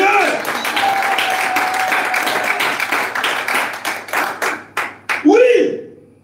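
A church congregation breaks into sustained applause for the Lord, dense clapping that thins into scattered claps before a voice cuts in near the end.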